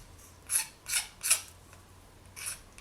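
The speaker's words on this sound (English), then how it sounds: "I'm just going to scrape away over here as well." Four short scraping strokes on the back of a polymer clay pendant, each a brief bright rasp with quiet pauses between, close and fairly soft.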